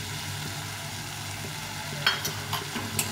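Ground spices fry and are stirred in a pan for street-style ghugni, a steady close sizzle broken near the end by a few sharp scrapes of the spoon.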